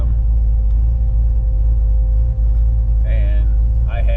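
Pontiac Firebird with a swapped engine rolling down a residential street at about 1,000 RPM, a deep steady low rumble close by with faint brief tones over it.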